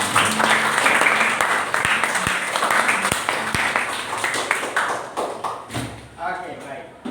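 Students in an Indonesian school class clap together in dense, sustained applause that continues for about five seconds and then fades out, with voices mixed in.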